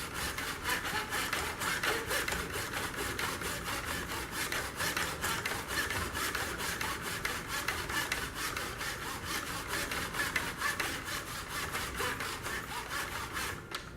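A hand saw cuts shallow grid lines along the grain of a wooden board, 1/8 inch deep, in fast, even back-and-forth strokes that rasp steadily without pause and without voices.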